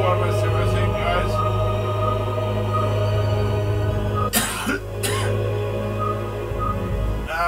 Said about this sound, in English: As you are hearing, I am coughing a bit